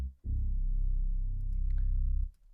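Long, sustained bass synth note from the Dart Bass Station PWM preset in Trilian, a deep pulse-width-modulated tone with steady, slightly wavering low harmonics, holding for about two seconds before cutting off.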